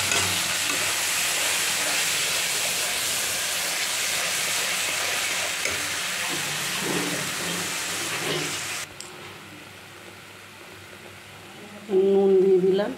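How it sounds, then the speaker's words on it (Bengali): Spice paste sizzling and frying in a hot kadai while being stirred, a loud steady crackle that drops abruptly partway through, followed by quieter scraping and a short burst of sizzling at the end. "ভালো করে ভেজে নেব।"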